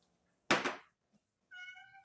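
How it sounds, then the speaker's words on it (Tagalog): A cat meows close by, a short burst followed by a second, higher tonal meow. "Sinasakmal ako ng aming alagang pusa."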